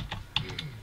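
Typing on a computer keyboard: about five quick, crisp key clicks in an uneven burst, close and fairly soft, with no voices over them.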